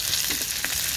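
Onions sauté in a pan and get a quick stir, a brief loud frying hiss with a couple of soft scrapes, close by and without speech.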